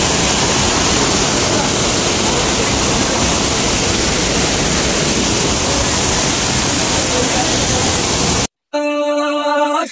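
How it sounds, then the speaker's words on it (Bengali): A rushing mountain stream near Gangtok gives a loud, steady, broadband roar close by, cutting off abruptly near the end before a brief different sound with tonal content. "জলের জাস্ট আওয়াজটা এতটা অপূর্ব"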